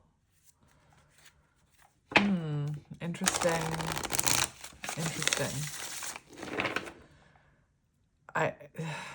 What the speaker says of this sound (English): I'm just gonna do one more shuffle.